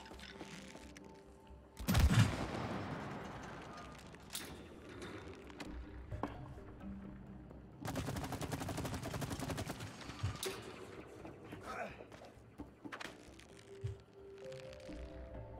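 Gunshots in the co-op video game It Takes Two, a loud sharp shot followed later by a rapid stream of fire lasting a couple of seconds, with scattered quieter game sounds between and around them.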